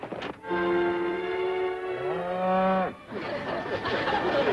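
Cattle low in a TV western, one long drawn-out moo that bends downward at its end, followed by a rougher bellow, close and loud.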